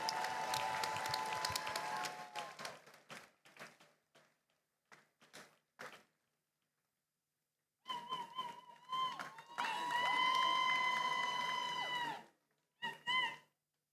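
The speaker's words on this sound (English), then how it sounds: "Let's clap for her till she gets here." Audience applause fills a graduation commencement ceremony, a dense burst of clapping at the start that thins into scattered claps, followed by louder crowd noise with tonal sounds.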